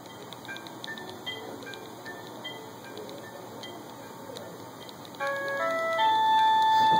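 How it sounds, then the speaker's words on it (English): Final Fantasy 7 game audio played on a homemade portable game system, a soft steady music track with light melodic notes that grows louder and fuller near the end. "That's Final Fantasy 7 on my portable anything at all video game system."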